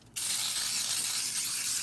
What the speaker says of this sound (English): So I want to put some cooking spray.